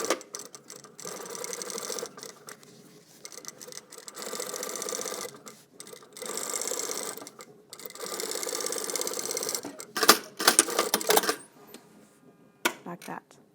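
A sewing machine running a stitch along a trouser fly, a steady mechanical whir in several runs of a few seconds each, broken by short pauses and clicks, close up.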